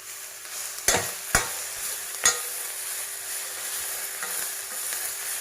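Fresh home-harvested spinach is stirred into a hot cooking pan, a soft steady sizzle punctuated by three sharp scrape-and-clack strokes of a spoon against the pan.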